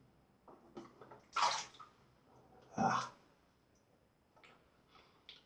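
A wet shaving brush is dropped back into a pot of water, making two short, close splashy sloshes with faint clicks and handling around them in a quiet room.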